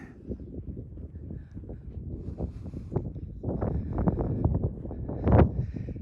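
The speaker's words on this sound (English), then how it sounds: "It is kind of windy out here." Gusty wind blowing across an outdoor spring garden near young apple trees, a steady broadband rush with louder gusts building toward the end, no voices.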